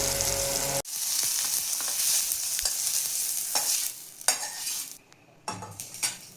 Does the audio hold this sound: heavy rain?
no